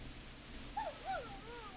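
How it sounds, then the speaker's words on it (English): A neighbor's dog in the video game Killer Frequency gives two short, faint yips or whimpers at night, heard from a distance over a low hum. "Is that a neighbor's dog?"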